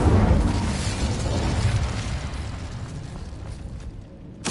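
The Incendio fire spell is cast in Hogwarts Legacy, a loud, dense whooshing roar of flame that swells at once, fades slowly and ends in a brief crackling burst.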